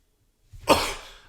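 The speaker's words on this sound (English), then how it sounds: "I have all these coughs" One close, rough cough, breathy and full, rising out of near silence and trailing off over about half a second, with no talking.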